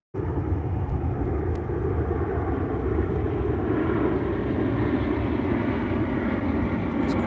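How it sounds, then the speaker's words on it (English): A large airplane flying low overhead, a steady loud engine rumble that holds evenly throughout without fading. "Damn, that sounds like a big ass plane."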